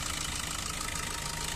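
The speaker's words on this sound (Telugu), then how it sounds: "ఇంజన్ సౌండ్ మాత్రం ఇట్లా ఉందండి" Diesel engine of a 2019 Maruti Suzuki Ertiga VDI idling, a steady, dense rumble with fine knocking texture, close and even throughout.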